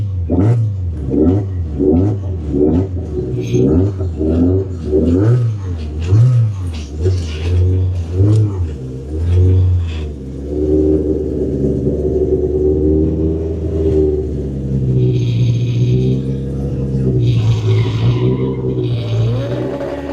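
A car with its electric exhaust cutout open revs hard in repeated rising and falling bursts, loud and close, then settles into a deeper, droning engine note with some higher whine.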